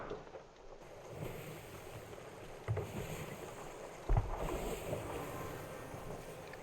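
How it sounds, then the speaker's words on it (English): A sailing ship in Sea of Thieves pushes straight into the wind, with steady wind rush and water washing along the hull, plus a couple of brief thuds and creaks partway through. "we're sailing directly into the wind"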